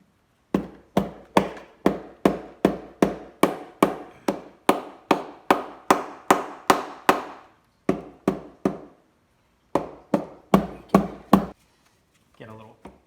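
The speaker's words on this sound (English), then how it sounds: "You want to use a rubber mallet. Give it some good taps all around." A rubber mallet taps around a stuck valve cover on a Kia Rio, giving over twenty sharp, regular dull thuds in quick runs with short pauses between them, close up with no talk.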